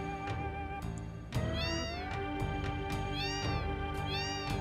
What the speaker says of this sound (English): What you do is you walk into them, and that's what makes them meow.